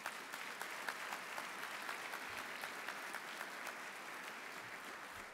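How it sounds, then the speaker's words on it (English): Audience applause at a military change of command ceremony, a faint, distant but steady stream of clapping with a few sharper nearby claps, holding evenly throughout. "Let's give them all a big round of applause."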